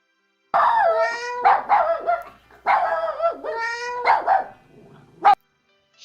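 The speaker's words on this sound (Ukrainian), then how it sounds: "Що це за галас? Що це за шум? Це песик і котик посварилися." A dog barks and yelps in several short bursts, some drawn out into whiny cries, with brief pauses between, close and fairly clear.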